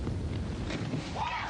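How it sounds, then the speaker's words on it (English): Wind buffets the microphone at an outdoor 10-meter diving competition, a steady low rumbling roar throughout, with a faint voice-like tone near the end. "It's very windy"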